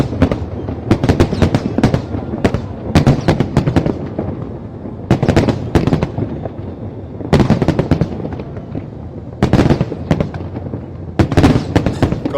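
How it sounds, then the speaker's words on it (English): Lunar New Year fireworks over Victoria Harbour in Hong Kong boom and crackle continuously, with dense rapid bursts and loud sharp bangs coming in waves. "they like to celebrate in style, particularly with this firework display"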